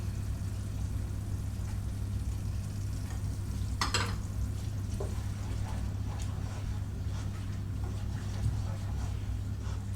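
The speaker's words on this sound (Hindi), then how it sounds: "इसको हम अच्छे तरीके से भून लेंगे" Mutton liver masala with yogurt is stirred and sautéed in a pan, giving a steady, continuous frying hiss over a low, constant hum, with a brief louder scrape near the middle.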